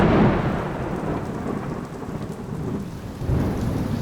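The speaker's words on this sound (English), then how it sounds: "that's the last time I use a thunderstorm transition." A rumbling thunderstorm with steady rain fills the scene, with a deep thunder roll at the start and another swelling near the end, loud and close with no voices.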